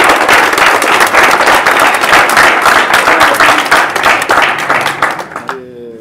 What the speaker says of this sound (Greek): Ένα δυνατό χειροκρότημα όλοι